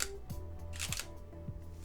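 Three quiet mechanical clicks from a Nikon D3500 DSLR shutter are spaced about half a second apart, soft and close in a quiet room.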